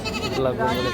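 A goat bleats briefly at a livestock market in Shariatpur, a wavering nasal cry mixed with the murmur of voices.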